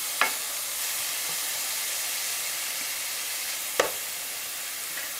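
Ground meat browns in a pan for a pasta gravy, a constant close sizzle and hiss broken twice by sharp scrapes of stirring.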